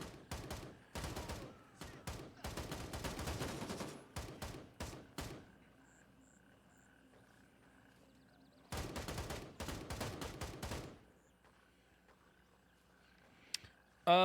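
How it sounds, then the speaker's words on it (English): Rapid bursts of automatic gunfire crackle in the video game Gray Zone Warfare, two long volleys separated by a quiet stretch with scattered single shots, a final sharp report at the end. "Gun sounds are pretty decent."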